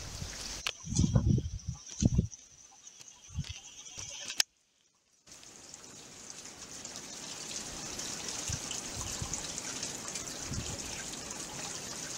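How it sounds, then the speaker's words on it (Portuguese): A small water wheel on a farm plot, driven by water drawn up by a wind pump, gives a steady trickling and splashing flow that builds after a brief silence, preceded by a few knocks and bumps. "uma pequena demonstração da roda da água da chácara que está a ser movimentada pela água puxada pela bomba eólica"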